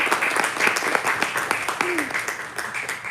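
Audience applause at a Chinmaya gathering, a soft, diffuse patter of many hands continuing steadily at a moderate distance, with a voice speaking faintly over it.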